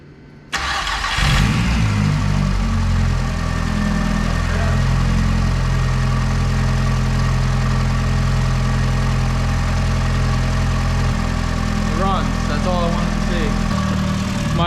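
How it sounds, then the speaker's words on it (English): First start of a mk3 Jetta after a swap to a 1.8T turbo engine: a brief crank, then the engine catches and settles into a loud, steady idle that runs to the end, with a few quick chirps late on. "All right, guys, here's first start."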